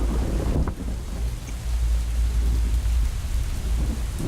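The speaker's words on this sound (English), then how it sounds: "Like the thunder audio is pretty bad." Steady heavy rain pours with a deep rumble of thunder rolling underneath in a horror video game, a dense, loud wash of storm noise throughout with no voices.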